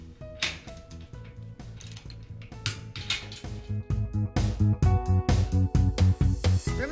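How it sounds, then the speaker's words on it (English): Rapid clicking of a torque wrench ratchet tightening nuts on solar panel racking hardware, loud and close, quickening into a steady run of ratchet strokes. "Remember, you want to use a torque wrench to tighten down all your hardware."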